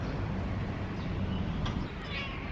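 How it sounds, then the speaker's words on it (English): A faint cat meow rises briefly over steady background hiss, a single short call somewhat distant. "You're a nice little kitty cat."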